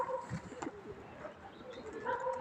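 Soft pigeon cooing repeats a few times against a low background rumble and rustle, fairly close.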